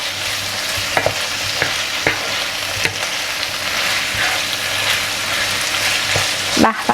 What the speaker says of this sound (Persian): من این ادویه رو بهش اضافه میکنم، یه هم میزنم دیگه تمومه.